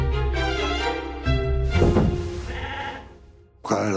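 Sheep bleat loudly and repeatedly at close range, several long wavering calls overlapping one another, with a brief dip before a final sharp bleat.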